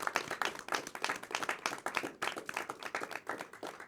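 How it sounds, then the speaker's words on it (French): A studio audience claps for a gospel group during an interview show, dense irregular clapping at close range that swells and dips over a few seconds with no voices over it. "C'est pas souvent qu'on m'applaudit dans mon émission."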